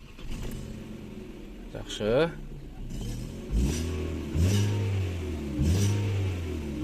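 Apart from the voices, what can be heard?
Kia Rio 2016 1.6 engine starting and revving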